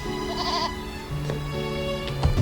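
A lamb bleats in a wavering, nasal cry, with a second, lower bleat following amid steady background noise.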